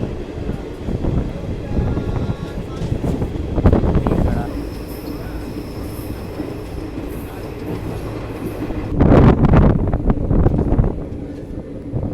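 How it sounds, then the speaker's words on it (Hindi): The 18619 Ranchi Godda Intercity Express rolls along after leaving a station, with a continuous rumble, clickety-clack from the rails and wind buffeting the microphone, plus a few louder surges of rattling. "चलिए निकल चुके हैं नौनिहाट भटूरिया रेलवे स्टेशन से"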